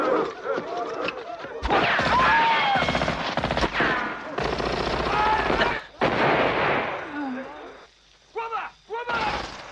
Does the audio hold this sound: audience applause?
no